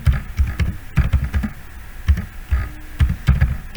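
Text typed on a computer keyboard, close bursts of clattering keystrokes in uneven clusters with short pauses between, no speech.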